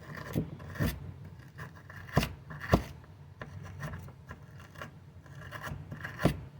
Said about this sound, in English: Use a screwdriver and kind of scrape at it.